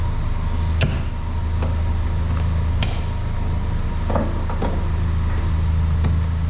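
A 2001 Toyota MR2 idles with a steady low engine hum throughout, broken by a few sharp clicks and knocks nearby.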